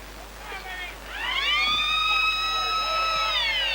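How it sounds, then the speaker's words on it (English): A loud, sustained full-time siren at a rugby match swells up and holds a steady wailing tone over distant crowd noise. "Full-time siren sounds."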